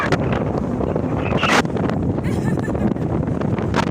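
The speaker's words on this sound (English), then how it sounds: "there goes the shelter from the wind" Wind gusts across an exposed hillside on the Simonside Hills in winter, buffeting the microphone in a steady, loud roar with brief surges, and a voice is briefly heard over it.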